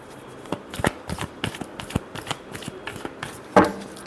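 Tarot cards are shuffled by hand in quick riffling bursts, crisp and close, with a sharper snap of cards near the end.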